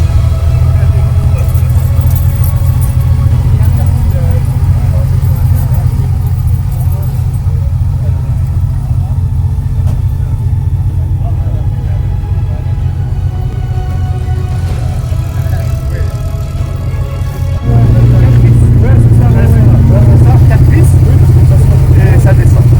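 An old classic car at a vintage vehicle gathering in Vaux-sur-Seine runs with a loud, steady low engine rumble close by, rising louder near the end as it starts up, with people chatting around it.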